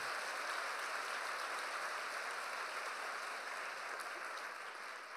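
A large theatre audience at a livestreamed musical performance at the Admiralspalast in Berlin applauds, a dense, steady roar of clapping that holds at full strength and tapers only slightly near the end, with no voices over it.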